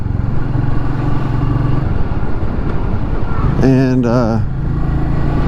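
Royal Enfield Meteor 350 motorcycle engine rumbling steadily while riding, its pitch rising and dipping as the rider shifts through the five-speed gearbox, with wind noise and a rider talking over it.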